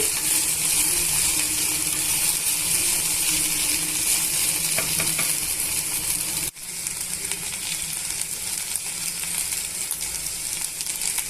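Okra fry with garlic is stirred in a pan. Constant close sizzling is broken by scraping and clinking stirs, with a brief cut midway before the frying hiss resumes.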